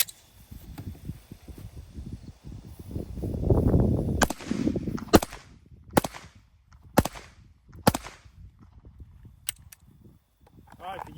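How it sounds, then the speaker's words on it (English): A Glock Gen 5 pistol with a Safari ported barrel and slide fires five sharp, loud shots about a second apart during accuracy shooting, following a stretch of talk and handling noise. "we're going to be shooting the Gen 5 lower with the Safari ported barrel and slide next"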